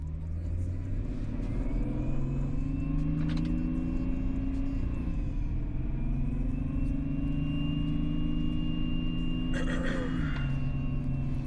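A BMW M5 in sport mode accelerates from 0 to 100 with a steady rising drone, pitch climbing through gear changes, loud and continuous inside the cabin.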